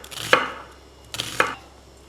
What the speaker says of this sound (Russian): Вот перец получается у нас вот такой соломкой нарезаем.